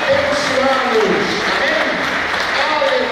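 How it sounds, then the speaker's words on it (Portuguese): A church congregation claps loudly during a Sunday service, with dense sustained applause filling the room while voices call out and talk over it throughout. "Aplauda com força, que Deus possa abençoá-los"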